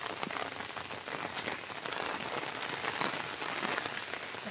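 Heavy typhoon rain pours down steadily, a dense, loud, unbroken hiss of drops hitting surfaces close by.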